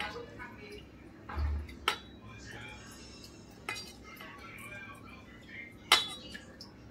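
A spoon mixes a fasting dish with black salt and crushed peanuts in a bowl, producing a few sharp, scattered clinks against the dish, with someone talking in the background.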